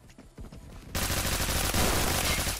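Gunfire in the Roblox shooter Phantom Forces, starting with scattered shots and then bursting into a loud, continuous stream of rapid automatic fire that fills the rest of the moment, with no voices.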